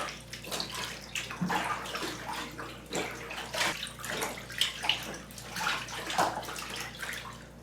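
Water splashes and sloshes in a bathtub as a wool blanket is rinsed, with irregular bursts of swishing and dripping at close range and no talk.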